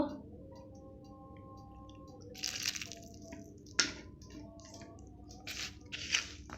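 A little water is poured onto cut okra in a bowl, heard as quiet, brief splashy pours and soft squishy drips in a few separate bursts against a faint background.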